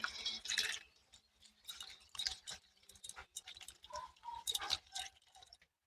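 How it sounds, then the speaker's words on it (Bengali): A whole tender bottle gourd is rinsed clean under water, giving irregular bursts of splashing, trickling and dripping, close and fairly quiet. "প্রথমে গোটা লাউটাকে একটু ভালো করে জল দিয়ে পরিষ্কার করে ধুয়ে নিচ্ছি"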